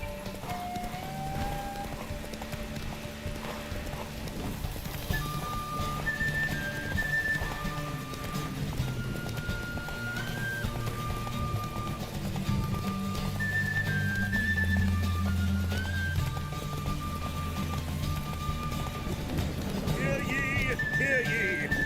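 Roach, Geralt's horse in The Witcher 3, gallops in a steady clip-clop rhythm during a derby race, with occasional whinnies, under a continuous game music score and ambient sound.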